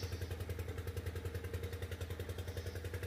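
A boat engine chugs on the crossing to Sandwip island in Chittagong, Bangladesh, a steady rhythmic mid-pitched throb with a clattering pulse, close and constant.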